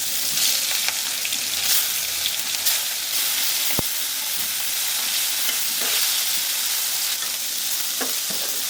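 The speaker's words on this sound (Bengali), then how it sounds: "তেল গরম হয়ে গেছে, দিয়ে দেবো মাছ।" Fish coated in salt and turmeric fries in hot oil, giving a steady, loud sizzle and hiss that goes on throughout, with a few brief clatters and stirring sounds.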